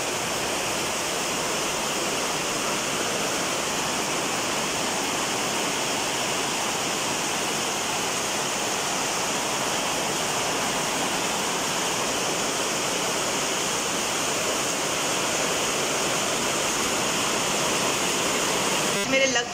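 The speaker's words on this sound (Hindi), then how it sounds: "मस्त वाला बारिश हो रहा है, मतलब आप चाहो ना तो जस्ट 2 मिनट के लिए ये आप आवाज़ सुन लो" Heavy rain falls steadily in Kerala, a dense, continuous hiss that stays even and close for the whole stretch with no voices over it.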